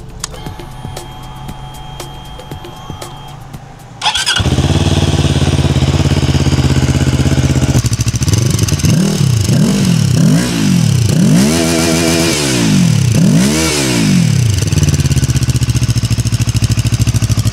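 After a quiet moment, a Hanway motorcycle engine fires up and idles loudly, then revs several times in rising and falling surges before settling back to idle.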